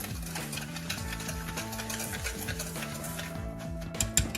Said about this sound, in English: I'm putting a half a cup of cream and sugar in here, and we're going to mix that together.